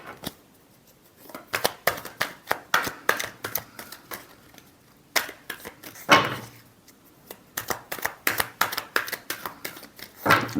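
Tarot cards are shuffled in quick sharp riffling bursts, close and crisp, in uneven clusters with short pauses between them.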